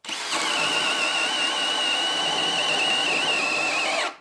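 A DeWalt 9Ah Flex cordless drill and a Hilti 8Ah cordless drill bore into wood with a loud, steady high-pitched whine. The sound holds for about four seconds, then stops abruptly, with no talk.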